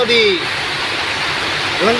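A swollen floodwater river, the Ganga in flood, rushes in a steady, dense wash of noise, with voices talking briefly at the start and again near the end.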